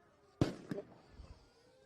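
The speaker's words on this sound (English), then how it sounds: "Flashbangs based on the sound." Flashbang grenades go off at a street clash with federal forces: one sharp blast and a quick second crack, moderately distant, with faint crowd noise after.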